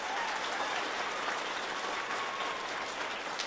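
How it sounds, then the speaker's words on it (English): Steady audience applause for a young chorus member at a children's chorus concert, dense, even clapping filling the room from start to finish with no voices over it. "So please give Gretel a big round of applause"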